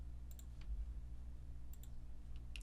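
A few light, faint clicks of a computer mouse and keyboard while selecting and copying code, scattered sparsely over a steady low hum of room noise.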